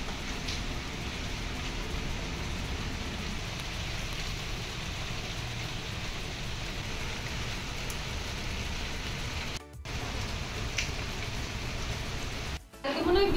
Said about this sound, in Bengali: সকাল থেকে, মানে উঠে থেকে দেখতে পাচ্ছি বৃষ্টি হয়ে যাচ্ছে, বৃষ্টি বৃষ্টি আর বৃষ্টি